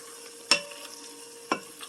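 A spoon stirs canned chicken casserole in a Dutch oven, two distinct scraping knocks against the pot about a second apart over a faint, steady sizzle, close by and quiet, with no talking.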